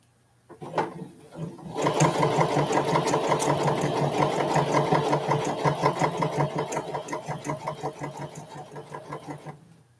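A sewing machine stitches in one long close run, a rapid even mechanical chatter that starts after a brief click, holds steady, then slows into separate stitches before stopping, with no talk.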